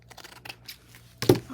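Scissors cutting the sides of a paper tag, a few faint snips followed by one louder, crisp cut close by.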